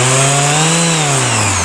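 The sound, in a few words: Makita BO5041 random orbit sander running at fast speed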